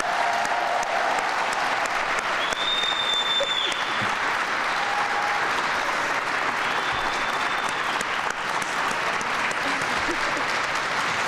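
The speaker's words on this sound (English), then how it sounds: "Let's give her a round of applause." Sustained audience applause at an awards ceremony honoring a city official, loud and dense throughout, with a few faint whistles rising above the clapping.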